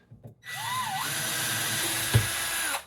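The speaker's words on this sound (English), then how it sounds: "Drill first." A power drill spins up with a rising whine, then drones steadily as it bores into wood at a baseboard, with a brief knock partway through before stopping.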